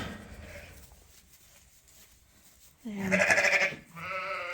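A ewe and her lambs on a sheep farm bleating back and forth, a faint call early on, then loud close bleats trading after a quiet stretch, with a brief spoken word.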